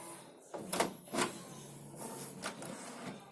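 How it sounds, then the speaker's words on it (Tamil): A Canon inkjet printer powering on, with a few faint mechanical clicks and clunks followed by softer whirring movements of its internal mechanism, nearby and quiet. "பிரிண்டர் ஆன் பண்ணிக்கோங்க"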